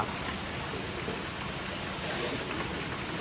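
Steady rain falls during flooding in a Thai riverside town, a dense even hiss that runs alone and unbroken from start to finish.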